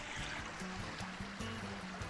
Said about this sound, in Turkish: Direkt dağdan gelen kaynak suyu burası.